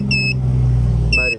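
A swing gate motor driven by an Elsema MC double swing controller runs with a loud, steady low hum, and short high-pitched electronic beeps sound at the start and again near the end.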